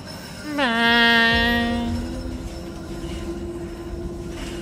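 Underground tram in the shooter VLADiK BRUTAL pushing through doors, marked by a loud rising horn-like tonal blare that swells then fades, leaving a steady mechanical hum and rolling rumble behind.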